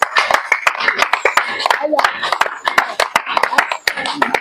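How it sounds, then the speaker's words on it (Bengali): People clap enthusiastically at an outdoor pigeon-flying contest, sharp irregular hand claps scattered throughout alongside talking and crowd chatter. "সবাই উৎসাহের সঙ্গে একটু হাততালি দিচ্ছে।"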